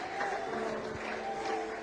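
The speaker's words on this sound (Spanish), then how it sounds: "el aplauso para el Señor, hermano, con más fuerza" Church congregation applauding for the Lord, a steady dense wash of clapping sustained throughout at moderate level, with faint voices mixed in.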